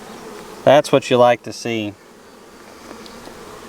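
Honeybees hum around an open hive frame during a spring inspection of a package colony, a steady buzzing mostly masked by a person talking up close for about a second, then continuing faintly on its own.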